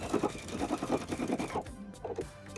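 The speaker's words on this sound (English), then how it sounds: "we're gonna stretch it and sew it down" Sewing machine stitching down a stretched elastic waistband, a close, steady rapid mechanical chatter that runs for most of the moment and then slows into a few separate whirring stitches.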